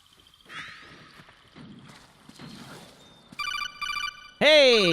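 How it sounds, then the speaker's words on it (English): A phone call ringing in the video game Metal Gear Solid 4, a bright electronic trill in short repeated bursts ending in a loud swooping tone, following assorted game noises and movement sounds. "Hey, a phone call."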